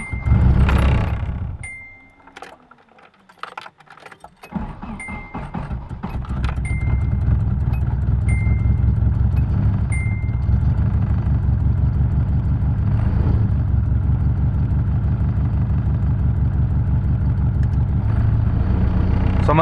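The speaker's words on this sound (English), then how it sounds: "So the car has been idling for like 5 to 10 minutes already" Nissan KA engine idling nearby in steady low throbbing pulses, following an opening rev and a few seconds of near quiet, with faint clicks and rattles over the rumble.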